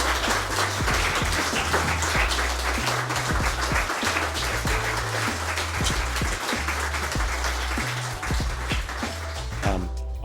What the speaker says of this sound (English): I'd like to encourage everyone to give a big thank you and applause.